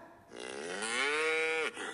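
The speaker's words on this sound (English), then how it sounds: "cow. Yes, it's a cow." A single long cow moo, close and clear, rising and holding for over a second before cutting off, with no talk over it.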